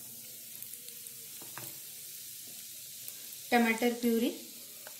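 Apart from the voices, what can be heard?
spices and tomato puree sizzling in hot oil in a pan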